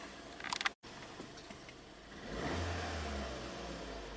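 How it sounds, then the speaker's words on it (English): A Ford EcoBoost car with a coolant temperature fault sets off on a test drive, its engine note rising into a steady louder drone partway through, with rustling handling noise near the start. "Alright, let's take it for a test drive."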